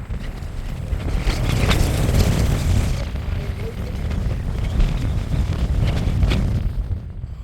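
Strong wind roars across an exposed mountain top at Meesapulimala, heavy low buffeting gusts battering the microphone in swelling waves, loud and close, with no speech.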